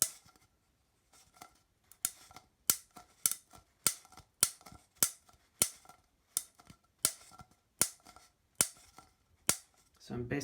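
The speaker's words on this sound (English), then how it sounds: "I'm just going to take this and just cut along the edge." Blades snip repeatedly along the edge of a small two-gallon aquarium, crisp evenly spaced clicks about every half second, close and quiet, with faint speech in the background.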